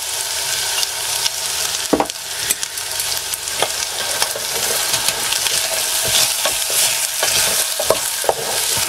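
Chopped onion sizzling and frying in a pan on a Trangia camping stove, a steady hiss with scraping stirs and occasional sharper clacks of the utensil throughout.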